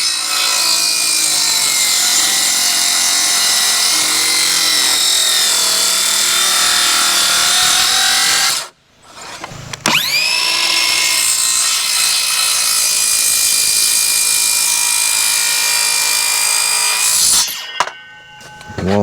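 Power saw, a jigsaw, cutting into a wooden post for a woodshed build, a loud sustained whine that stops briefly and restarts for a second long cut, then trails off near the end.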